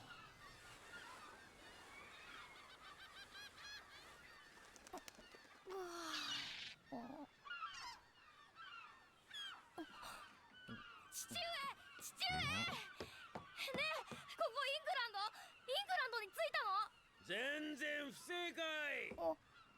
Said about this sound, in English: Holy shit, that's a lot of birds.